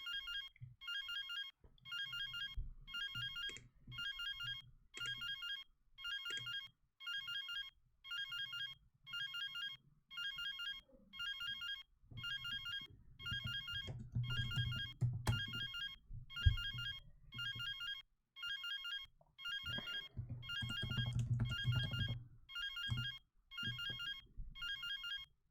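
A phone rings over and over in the Cat President 2 video game, an electronic ringtone in evenly spaced bursts for almost thirty seconds. Low rumbling and handling noise sit underneath, and nobody speaks.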